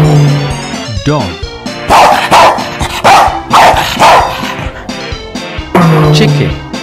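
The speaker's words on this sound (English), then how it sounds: "Dog." Cartoon dog barking in a children's animal-names song, a run of several yappy barks in quick succession over loud, bouncy music.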